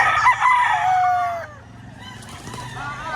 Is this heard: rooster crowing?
yes